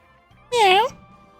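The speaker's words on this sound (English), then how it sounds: "Was that a meow or? It's a meow, yes." A single short, clear cat meow, rising then falling, close and fairly loud over a faint background hum.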